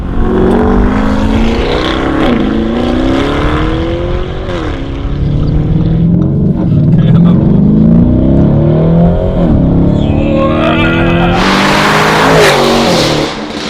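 A Novitec Lamborghini Urus S with a completely new front-to-rear exhaust system revs loudly and close, its engine note climbing and falling through repeated throttle blips before a sharp burst of crackling at the end.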